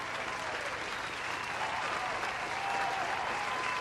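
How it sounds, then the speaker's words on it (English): Celebratory applause marks reaching a 10K milestone. A dense, even wash of crowd clapping holds steady at moderate loudness and swells slightly toward the end, with no clear speech. "thank you for the applause"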